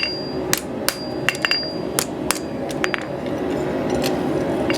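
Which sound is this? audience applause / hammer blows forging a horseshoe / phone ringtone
hammer blows forging a horseshoe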